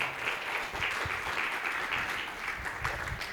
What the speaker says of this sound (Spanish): Dale palmas de alabanza al Señor, hermanos.